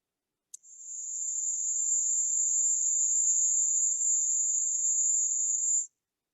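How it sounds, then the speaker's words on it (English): Only the highest harmonics of a sung E vowel, filtered, come through as a thin, buzzy, steady high whine lasting about five seconds after a faint click, with nothing else heard. "let's listen to just the highest harmonics right at the top"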